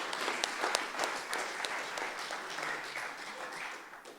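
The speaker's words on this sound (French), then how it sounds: "je vous demande d'applaudir bien fort" Audience clapping for traditional Kanak musicians at a concert conference, dense sustained applause with scattered louder claps, fairly distant and even throughout.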